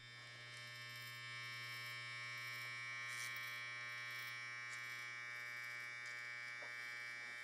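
Electric hair clippers with the blade closed to the shortest setting, cutting a fade, give a steady, faint tonal buzz that holds evenly throughout with light brushing ticks and no talk.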